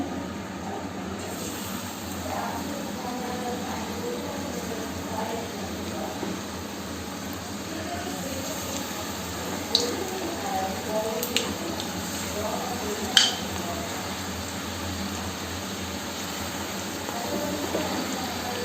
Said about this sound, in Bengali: সাদা তেলে ভাজছি